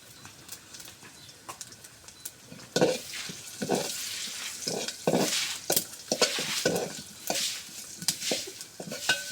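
Panch phoron five-spice seeds sizzle and crackle in hot oil, a steady bright frying hiss with stirring knocks and scrapes throughout, close and moderately loud, no talk.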